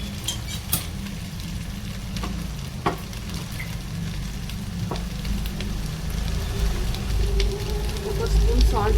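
Vegetables including cauliflower and peas frying in a pan for temple-style sambar rice, a loud continuous sizzle broken by occasional spoon scrapes and clicks, close up, growing slightly louder toward the end.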